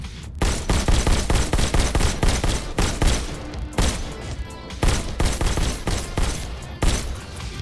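Rapid gunfire rattles in dense, repeated bursts in the VR shooter Robo Recall, loud and close, with short pauses between volleys.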